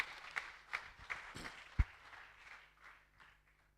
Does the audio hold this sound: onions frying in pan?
no